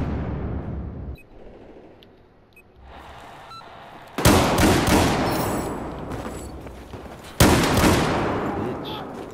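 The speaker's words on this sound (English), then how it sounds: "Shotguns everywhere." Two loud, close shotgun blasts in Battlefield 4, each a sharp crack with a long decaying tail, following a quieter stretch of battlefield noise and brief talk.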